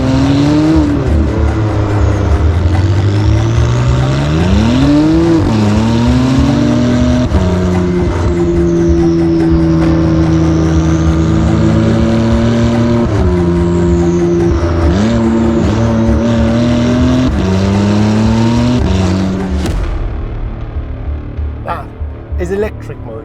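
Novitec-tuned McLaren Artura supercar with its 720 hp V6 engine and race exhaust, loud and close, revving hard through repeated rising and falling sweeps with gear changes before settling and fading out at the end.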